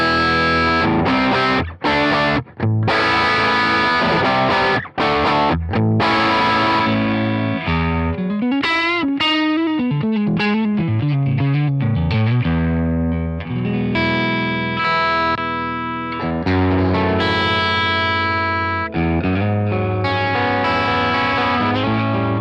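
Electric guitar played through a ToneX model of the Silverlux Custom amp, humbucker split, giving a loud, distorted, effects-laden tone with chorus and shimmer, strummed chords and sustained ringing notes filling the stretch with no talking.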